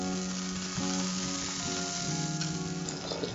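Chillies, pepper and shallots fry in hot sesame oil, making a close, continuous hissing sizzle with soft stirring scrapes now and then, and no voices.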